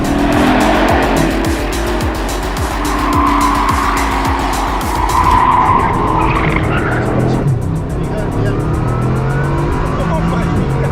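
A Bugatti Chiron Super Sport launches hard with loud tire squeal and a roaring, rising engine note that cuts off abruptly partway through, leaving a quieter rumble, with people talking excitedly over it.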